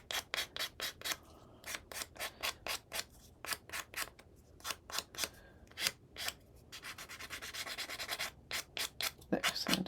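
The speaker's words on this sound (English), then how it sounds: "think what I might do is just use my emery board." An emery board rasps in quick, rhythmic back-and-forth strokes along the paper edge of a handmade mini album, close and crisp, with a few short pauses and a faster burst of strokes near the end.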